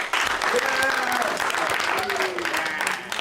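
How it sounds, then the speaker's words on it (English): A crowd claps loudly throughout, with a voice talking over the applause. "round of applause for yourselves"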